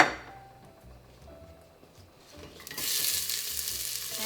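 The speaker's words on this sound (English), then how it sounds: "And you hear the sizzle," Onions sizzle steadily in olive oil in a pan, a soft crackling hiss that swells louder about halfway through with light stirring clatter underneath.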